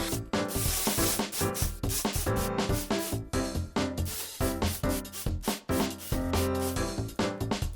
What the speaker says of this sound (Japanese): あとはヤスリでさらに綺麗にしていきましょう。